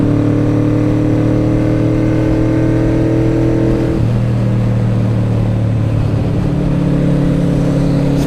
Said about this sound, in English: I think the clutch is slipping in this thing.